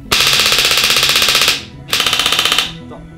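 Airsoft gun firing rapid full-auto bursts through a WOSPORT WST-X01 Bluetooth chronograph, a loud close rattling burst of about 1.4 seconds, a short pause, then a second burst until the magazine runs out.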